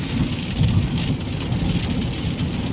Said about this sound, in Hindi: बहुत ही तेज बारिश, बहुत ही तेज